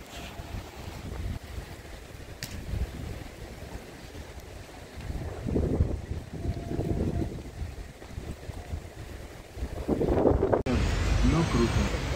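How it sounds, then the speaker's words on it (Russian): Cold outdoor wind gusting steadily against the microphone, a low rumbling roar that swells and buffets, close and fairly loud throughout, with a voice briefly heard over it. "Ну, конкретно ветер холодный, надо уже куртку одевать."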